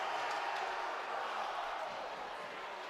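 A hockey crowd at a Darien vs. Greenwich varsity boys game cheers steadily after a clean check, a broad continuous roar of many voices heard from a distance in an arena.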